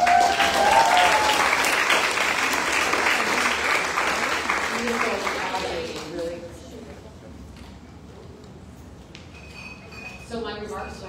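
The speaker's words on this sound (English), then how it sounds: "Let's give Antonia a big applause." An audience at a climate justice talk gives sustained applause, a dense wash of clapping that fades over several seconds before a voice begins speaking.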